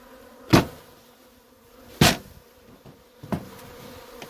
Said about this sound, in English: I'm just going to knock all these bees down in the box